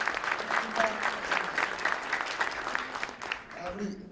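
Applause from the audience at a New Year prayer breakfast of a Gyeonggi Christian council, a dense steady patter of many hands lasting throughout, with faint voices mixed in beneath it.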